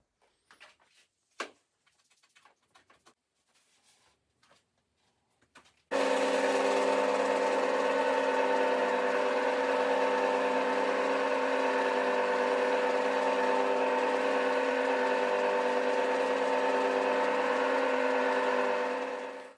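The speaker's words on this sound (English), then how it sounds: "put some abrasive in there and just give it a whirl, let it run for 15 minutes" A 3D printed gear-driven drum shell polisher loaded with abrasive starts up after a few quiet knocks, then runs steadily and loudly with a constant mechanical drone and whir until the end.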